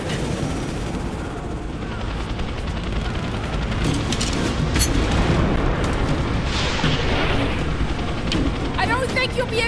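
Trebuchet boulders crash and explode in Rise of the Tomb Raider, with heavy booming impacts and rumbling debris over a constant battle din, while voices shout over the chaos.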